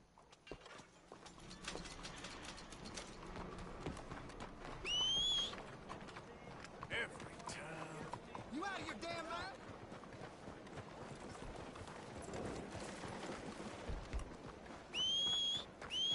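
Horse hooves clip-clopping in Red Dead Redemption 2 on a town street, a soft continuous patter under people talking, with a couple of brief whistles.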